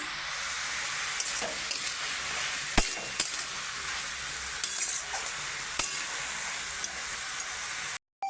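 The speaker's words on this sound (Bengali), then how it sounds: "এই যে আমি ভালো করে একটু কষিয়ে নিয়েছি" Ash gourd with slit green chillies stir-fries in a pan, a steady close sizzle punctuated by occasional sharp clinks and scrapes of a utensil against the metal, ending abruptly, with no one talking.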